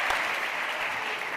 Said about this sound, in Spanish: Te aplaudo hasta yo.